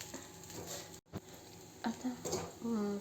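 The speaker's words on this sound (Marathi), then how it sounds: "परत एकदा छान मिक्स करून घेऊया आपण" A spoon stirs Maharashtrian kande pohe with sugar in a pan, giving soft scraping and light sizzling in short strokes, with a brief pause in the middle and quiet talk over it.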